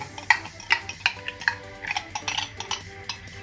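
Chocolate and liquid cream melting together in a bowl over a bain-marie, stirred with a utensil that clinks and scrapes against the bowl in a steady rhythm of light taps. It is close and moderately quiet, with no voices.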